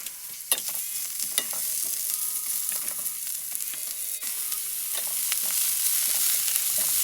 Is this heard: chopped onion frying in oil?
yes